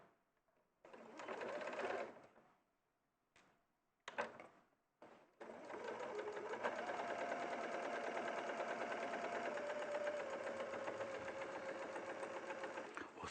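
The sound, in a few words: sewing machine stitching over zipper tape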